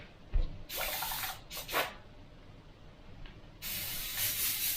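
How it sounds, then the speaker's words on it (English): An airbrush sprays water in short test bursts after cleaning and reassembly, giving several close, sharp hissing blasts separated by brief pauses, with a longer spray at the end. "just give it a test, and that's spraying really nice"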